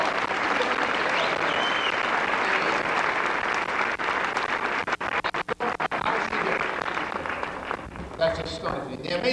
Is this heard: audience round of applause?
yes